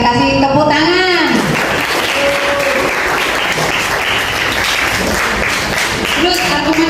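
A room full of people claps steadily and loudly for several seconds, with a voice speaking briefly at the start.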